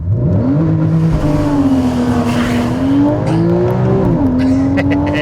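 A Porsche Cayman S (981) launches hard using launch control, its engine note climbing steadily through the revs with a brief dip at a gear change, loud and close throughout.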